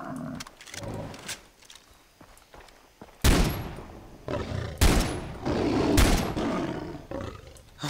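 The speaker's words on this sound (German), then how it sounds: "Drei Schüsse für einen Tiger, nicht schlecht" A tiger is shot and killed in the video game Far Cry 3: a few sharp gunshot bursts and a roaring growl ring out among footsteps and game ambience, with quieter stretches between the louder hits.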